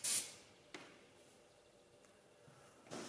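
An airbrush sprays ServFaces coating onto an Audi RS6 grille in short hissing bursts, a strong one at the start and another at the end with a brief puff between, close and without talk.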